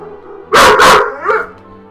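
An indoor dog lets out two loud, close barks in quick succession, followed by a softer yelp, alone without speech.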